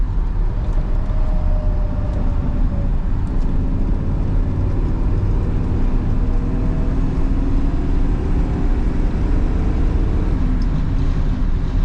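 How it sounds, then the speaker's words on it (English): Constant broadband road rumble and smooth engine drone from inside a 1967 Chevrolet Camaro 4-speed cruising at 50 mph, with a soft, even wind hiss throughout. "We're cruising 50 miles an hour right now. It's very smooth, very controlled. And you hear just the slightest bit of wind noise."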